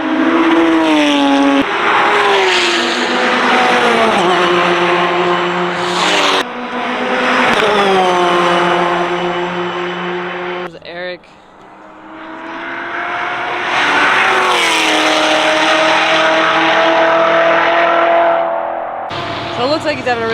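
Race cars lapping the track at Road Atlanta, loud engine notes rising and falling as cars pass close by one after another, with brief gaps between passes and a continuous roar throughout.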